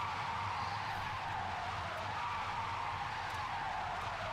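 A Nissan S15 drift car in a Long Beach drift qualifying run, tires screeching in one long unbroken squeal over engine roar, steady and loud throughout.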